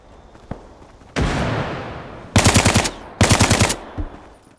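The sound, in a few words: M4 rifle gunfire in video game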